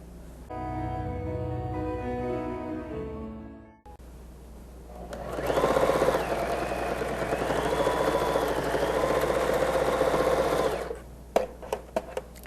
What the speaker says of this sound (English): The sewing machine that I'm using today is a 1540 Pfaff sewing machine.